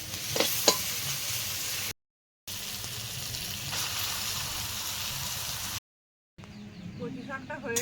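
Spiced oil sizzles steadily as taro leaves are fried in a pan while cooking outdoors in the wind, a broad hiss broken by two abrupt silent cuts, with a few louder spatter pops early on.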